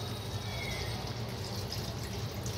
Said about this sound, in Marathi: तर आता आपण याच्यात थोडंसं पाणी टाकूया